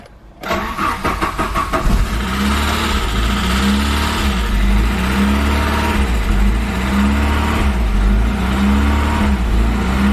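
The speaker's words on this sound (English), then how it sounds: "It hasn't been started in a while, that's why the lifter's clattered so loudly." A 1990 Saab 900S engine, long unstarted, cranks and catches, then runs loudly with a steady, rapid lifter clatter over a rough idle, close by.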